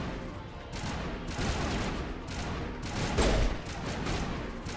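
Sustained video game gunfire crackles as dense, continuous shooting close by, with a heavier burst just past the three-second mark and no talk.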